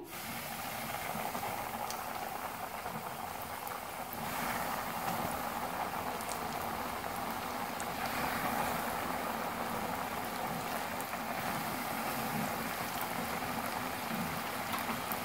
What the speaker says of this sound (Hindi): ऑयल हमारा गर्म हो चुका हुआ है कढ़ाई में। अब एक एक पीस करके शामिल करते जाएंगे।